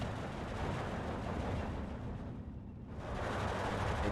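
An off-map artillery strike in the Steel Division 2 war game: a heavy, continuous rumbling barrage of blasts that dips briefly before swelling back, loud and dense throughout.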